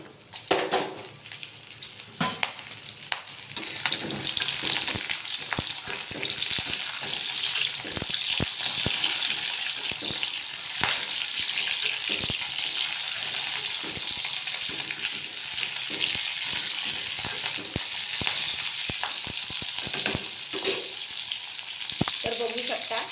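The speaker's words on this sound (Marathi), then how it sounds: "तर बघा छान असं तेल टाकलं आहे. आता आपण शेंगा सोडून देऊया याच्यामध्ये." Green pea pods fry in hot oil in a pan and are stirred, with a loud, continuous sizzle and scattered scraping clatters throughout.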